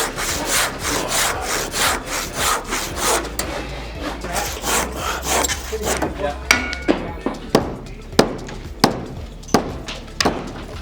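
A hand saw cuts through wood during flat roof stripping, first in a fast, steady back-and-forth rasp of strokes, then in slower separate strokes, with some talk in the background.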